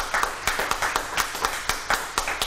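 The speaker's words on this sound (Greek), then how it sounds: "θα ήθελα το μεγαλύτερο χειροκρότημά μας" Audience applause greeting a singer at a Greek television show, a steady wash of many hands clapping with regular louder bursts, fairly close and loud with no voices over it.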